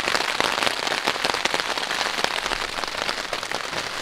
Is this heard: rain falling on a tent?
yes